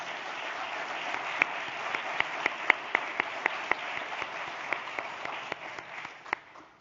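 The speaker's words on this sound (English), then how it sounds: "Would you please give our panel a round of applause?" An economic forum audience applauds a panel with a steady patter of clapping in a hall, marked by a few sharper individual claps that stand out and then taper slightly toward the end.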